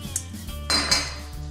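A metal lid clanks down onto a pressure cooker, followed by a light clatter of cookware; close and fairly loud, with no talking.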